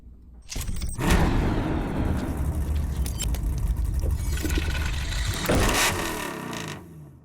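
The Death Metal Dodge Charger: a car engine starts up and runs loud and close with a rough, throaty roar, swelling again before cutting off near the end.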